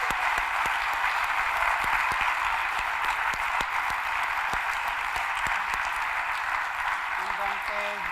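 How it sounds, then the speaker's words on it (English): Applause from a conference audience at the close of a talks event, a dense, sustained wash of clapping at an even loudness that runs through the whole stretch. "un big round of applause"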